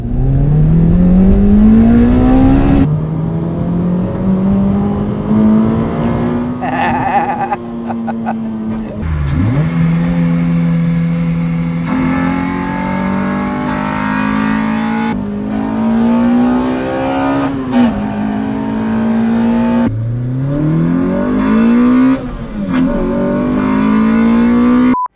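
An older Toyota Celica engine revs up to about 6000 rpm. It climbs loudly and close by in long pulls with brief dips between them, and a voice talks at times over the engine note.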